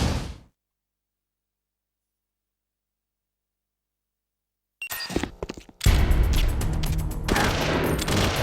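Gunfire in Metal Gear Solid: The Twin Snakes on GameCube: after a long silence, a short cluster of sharp shots rings out, then a dense, loud volley of rapid fire continues to the end.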